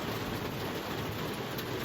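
Heavy rain pours down in a fall thunderstorm, a dense steady hiss of falling water with no break and no voices.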